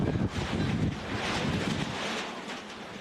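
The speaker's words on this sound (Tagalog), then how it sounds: "Sa kasagsagan ng ulan, halos tangayin na ng hangin ang bahay na ito sa JP Rizal." Strong gusty wind during a heavy rainstorm in Mandaluyong buffets the microphone with a loud, rumbling roar that eases slightly toward the end, with no voices over it.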